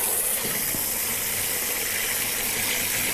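Garden water pours into a tank holding iPhones, making a continuous hissing, gushing flow at a steady level from start to finish, with no talking.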